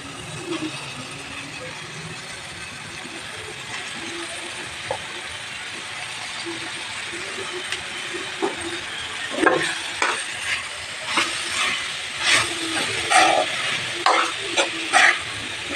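Boiled cauliflower is tipped into a pan of gravy curry and stirred, a low simmering sizzle giving way to repeated scraping and clattering spoon strokes that grow louder and more frequent toward the end, with no voices.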